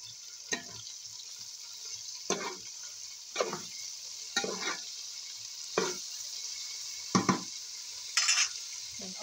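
Cabbage being stir-fried for pansit in a pan, a quiet sizzle broken by six or seven sharp utensil scrapes and clatters at irregular intervals.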